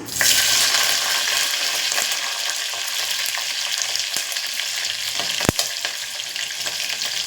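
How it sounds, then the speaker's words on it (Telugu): Slit green chillies sputter in hot oil inside a pressure cooker, a dense crackling sizzle that holds steady, with one sharp metallic click partway through. "కుక్కర్ బాగా హీట్ ఎక్కింది కదా అందుకే తుల్లుతుంది బాగా ఫ్రై అయిపోయింది"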